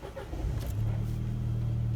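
An Audi A4 B7 quattro with a newly replaced fuel pump cranks briefly, then fires and settles into a steady, close idle hum.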